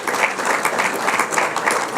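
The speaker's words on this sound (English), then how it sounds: "this applause is just very natural for you" A dinner crowd at an Eid and integration event claps for Lord Ahmed, a continuous, full round of applause from many hands in a large room.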